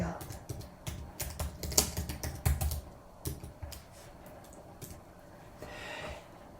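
Fingers typing on a computer keyboard, bursts of quick close clicks that come thick and uneven, then thin out to sparse taps, fairly quiet with no speech.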